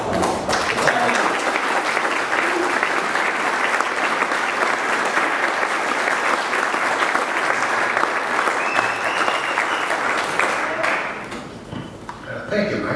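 Loud, sustained applause from an audience at a community meeting, many people clapping together for over ten seconds before it thins out and a voice begins speaking near the end.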